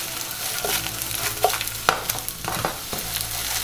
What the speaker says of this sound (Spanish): Vamos a mezclarlos